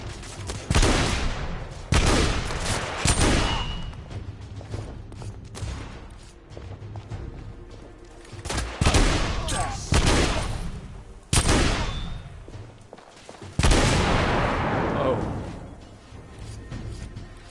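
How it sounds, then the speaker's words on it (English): Repeated heavy shotgun blasts in the game The Order: 1886, about eight loud booming shots spaced a second or two apart, each decaying before the next, with a voice talking briefly between them. "That's shotgun."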